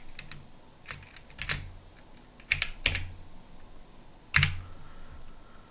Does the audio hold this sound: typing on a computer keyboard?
yes